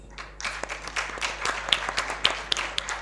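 A conference audience applauds a panel of speakers, dense steady clapping with sharp individual claps standing out, close and lively throughout.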